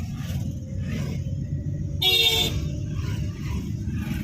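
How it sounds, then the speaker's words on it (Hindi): A car horn gives one short honk midway, clear over the low rumble of a car interior during a city driving lesson. "हॉर्न मार के जाना"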